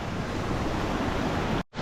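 Steady, dense rushing water from a large waterfall and mountain stream high in the Indian Himalayas, loud and continuous with no voices, cutting off abruptly near the end.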